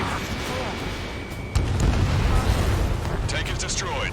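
A tank blown apart in the combat flight game Ace Combat 7, a sudden heavy explosive boom followed by sustained low rumbling under radio chatter and aircraft noise.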